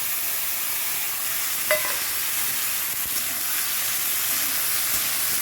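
Vegetables for a Bengali fish curry with potato and bitter gourd tip into a hot pan of oil, setting off a steady, loud sizzle and hiss that runs on unbroken, with a faint clink near the start.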